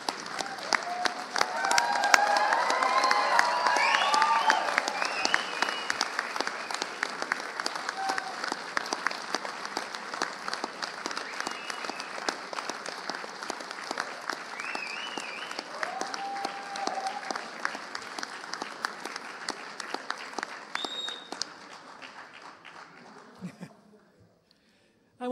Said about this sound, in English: Please stand and give your friends a round of applause